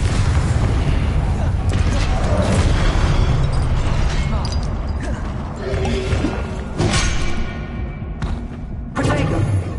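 Confringo blasting spell in Hogwarts Legacy, a string of loud booming explosions and crashing bursts packed together over about ten seconds, with dense rumble and a few sharper pops near the end.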